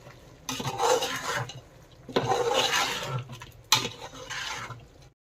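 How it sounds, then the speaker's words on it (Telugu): A kitchen mixer grinder whirs through tomatoes for a chicken curry in three separate pulses, each a rough whooshing grind with short pauses between. "ఇప్పుడు మంచిగా మిక్సీ వేసుకుందాం."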